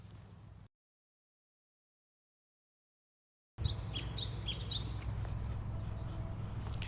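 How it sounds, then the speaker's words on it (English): Several birds sing outdoors near an estuary, with bright, repeated whistling phrases and chirps over a low background hum, briefly cut to silence before the song resumes close and clear. "There are birds outside here where I'm doing my voiceover, so I thought you could listen to them."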